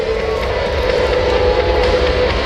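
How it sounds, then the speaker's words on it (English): A C-5M Super Galaxy military transport jet rolls for takeoff at an air base open house and airshow, its engines giving a steady, loud, distant roar with deep rumble throughout. "Watch this short takeoff roll by the big new C-5M."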